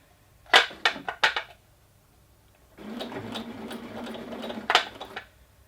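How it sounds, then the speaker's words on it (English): A sewing machine stitches a back tack on dress fabric: four short sharp bursts in quick succession, a pause, then a longer steady run of stitching that ends in a brief louder burst. Close and alone. "So I'm just going to quickly do a back tack to secure."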